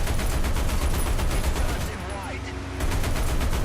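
A tank machine gun fires in War Thunder, rapid dense bursts of gunfire rattling close and loud with a brief lull midway before resuming.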